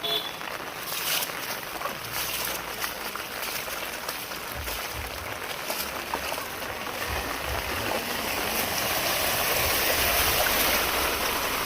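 Rainwater rushes steadily through a village street after heavy rain, a broad continuous hiss and gurgle of flowing water that swells slightly toward the end, with a voice speaking faintly underneath.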